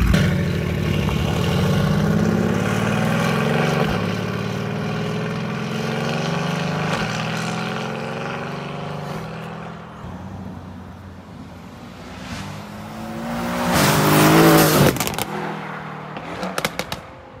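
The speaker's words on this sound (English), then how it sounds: "And the way you hear the turbo spooling as it's coming at you too." An 800+ hp Mercedes-AMG GT R makes a loud flyby, its engine note rising as it approaches, swelling to a sharp peak, then dropping away with a few crackling pops at the end.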